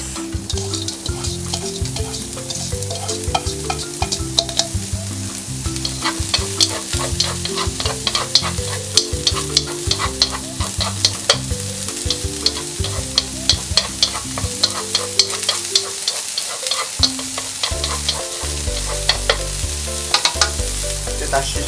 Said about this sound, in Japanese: フライパンごま油を敷いてネギを炒めていきます